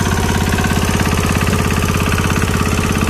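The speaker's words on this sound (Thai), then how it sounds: "เครื่องยนต์ดีเซลสูบเดียว นะ วิ่งขึ้นรถกระบะได้เลย" The small single-cylinder Yanmar diesel engine of a Hanix H05 mini excavator idles up close, loud and steady with a fast, even chugging thump.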